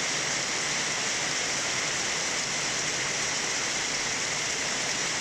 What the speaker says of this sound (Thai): โดนถล่มไปแล้วพายุทั้งลมทั้งฝนทั้งฟ้าร้องฟ้าผ่าฟ้าแลบมาครบชุดครับ